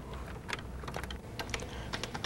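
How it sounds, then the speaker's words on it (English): Rapid, irregular keystrokes on a Tandy Color Computer keyboard as a program is entered, a steady clatter of close, moderately loud clicks with no voices. "To see how this works, type this program in."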